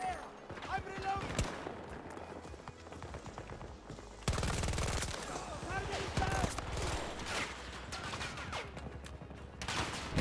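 Rapid automatic gunfire and scattered single shots ring out in Hell Let Loose, a World War II shooter, in dense overlapping bursts, some near and loud, with voices occasionally heard beneath the battle.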